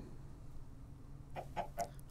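Three quick, soft clucks from a Minecraft chicken on a farm, evenly spaced near the end over a low steady background hum, with no talking.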